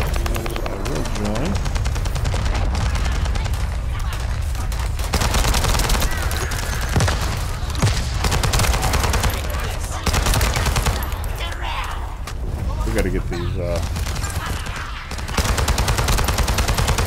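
Continuous gunfire in the shooter game The First Descendant, dense rapid automatic bursts with brief pauses running throughout, loud and close, under occasional speech.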